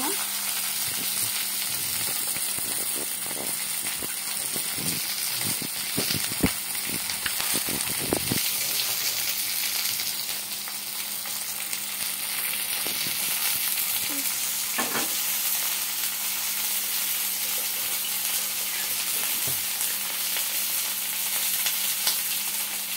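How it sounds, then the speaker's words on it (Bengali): Chopped garlic, onion, coriander leaves and green chili fry in a pan with a loud, continuous hissing sizzle. Clustered utensil knocks come early on and scattered stirring strokes follow, with no talk. "রসুন কুচি, পেঁয়াজ কুচি, ধনিয়া পাতা, কাঁচা মরিচ সব মিক্স করে ভেজে নেব।"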